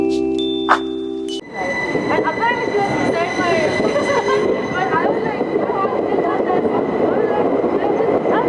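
A train pulls into a railway station with a loud, steady rumble and a high metallic whine. A brief quieter moment comes first, then the noise holds through to the end.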